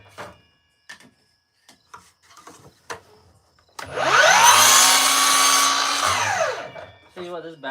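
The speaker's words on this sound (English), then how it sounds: "this battery powered Milwaukee miter saw" A battery-powered Milwaukee miter saw cuts wood in a woodworking shop, a loud whining cut lasting about two seconds with the motor spinning up and winding down, after several light knocks and clicks.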